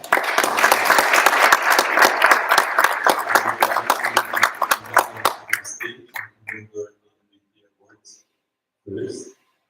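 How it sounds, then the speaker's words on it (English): Audience applause for award winners at an event in Amman, a dense round of clapping that gradually thins into a few scattered individual claps before stopping, followed by a brief voice. "So a big applause for everyone on the list."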